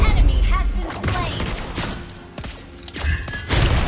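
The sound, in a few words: sniper gunshots from video game Mobile Legends, hero Lesley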